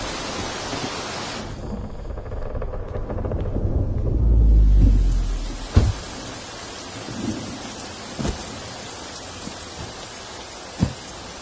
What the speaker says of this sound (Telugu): వర్షం గట్టిగా పడుతుందా?